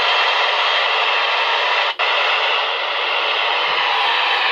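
Handheld Radtel, Baofeng or Radioddity radio with the squelch opened, giving a loud, steady hiss of static with one brief dropout, and no talking.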